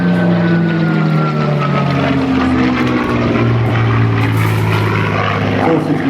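A Spitfire Mk XVI fighter plane flies past at Temora, New South Wales, its propeller engine a loud, rich, continuous drone with a slowly falling pitch that fills the whole stretch, and no voices.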